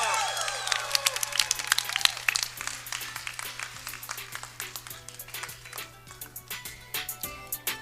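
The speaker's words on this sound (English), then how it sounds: "let's get one more big round of applause for all those very special speeches" Guests at a Christian wedding reception applaud after the speeches, with dense clapping and some cheering that thins into scattered claps over a steady low hum.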